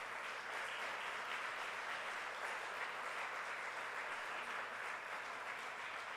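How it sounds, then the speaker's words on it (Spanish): A church congregation applauding the Lord, a continuous even rush of many hands clapping, moderately distant and steady throughout, with no talking. "Dele un fuerte aplauso al Señor."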